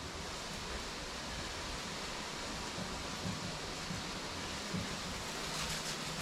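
Garden hose spraying a fine mist of water over freshly sown grass seed, a steady close hiss of spray that runs without a break, with no talking.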